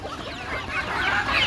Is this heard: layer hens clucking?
yes